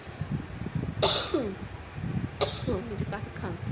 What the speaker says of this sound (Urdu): مجھے کافی کھانسی بھی ہو رہی ہے